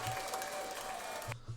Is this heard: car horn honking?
no